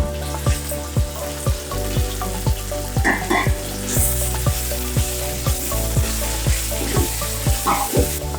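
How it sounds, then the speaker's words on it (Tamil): Ginger and garlic sizzle loudly in a pan for chicken biryani while a spoon scrapes through them in a steady, repeated stirring rhythm, close and continuous with no voices. "இஞ்சி பூண்டு போட்டோம்னா கொஞ்சம் கிளறி விட்டுட்டே இருங்க, இல்லைன்னா அடி பிடிச்சிடும்"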